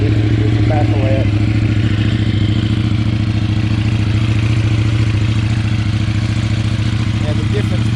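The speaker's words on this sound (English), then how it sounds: "that's a cold start. With the baffle out." A KTM 790 Adventure R motorcycle cold-starts and idles with a Wings slip-on exhaust, baffle removed: a loud, steady, low twin-cylinder rumble held close throughout, with faint clatter on top.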